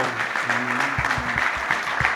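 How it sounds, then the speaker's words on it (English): Applause from the audience at a New Mexico Bowl kickoff press conference, a steady wash of clapping through the whole clip with a few low thumps underneath. "I think you guys should give him a round of applause"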